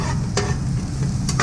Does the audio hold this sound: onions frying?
yes